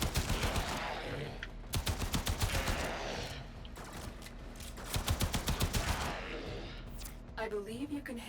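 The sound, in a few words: primary weapon gunfire in video game Warframe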